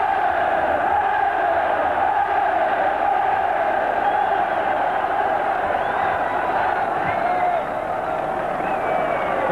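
A large football stadium crowd in a 1984 English league match roars and cheers in a sustained, distant-sounding swell after a near miss, with a commentator talking over it.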